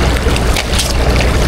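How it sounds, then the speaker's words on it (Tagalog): Strong water current surging along a shore after a storm, a loud, continuous rushing wash with broad noisy texture and no talking. "Napakalakas pala ng agos."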